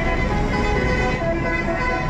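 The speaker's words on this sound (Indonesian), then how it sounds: "MPM pertama dari Sumbar yang memasuki terminal Pondok Pinang" An MPM intercity bus from West Sumatra pulls into the Pondok Pinang bus terminal, its engine droning loud and steady with a tonal horn-like hum, amid terminal traffic noise and voices in the background.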